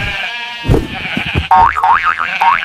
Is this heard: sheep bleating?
yes